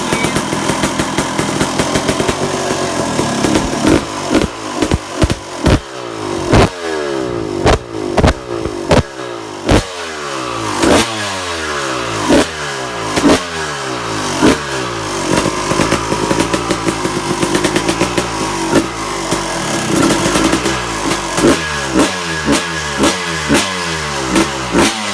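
A Suzuki RM250 two-stroke dirt bike warming up, its engine blipped again and again in sharp, loud revs that rise and fall over a raspy idle, close by and with no talking.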